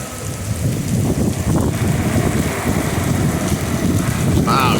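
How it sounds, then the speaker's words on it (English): Extreme heavy rain pours down at Lake Erie in Conneaut, Ohio, a loud steady roar of downpour with wind noise buffeting the microphone, continuing without pause. "you can't even see it's raining so hard"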